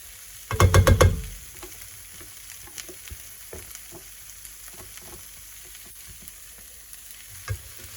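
Saltfish going into a hot pan with onions and peppers: a loud sizzling burst at first, then a quieter crackle with scattered clicks and stirring.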